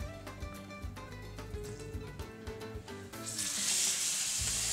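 Beef strips drop into hot coconut oil and sizzle, a busy crackling hiss that swells louder toward the end, with no voices over it.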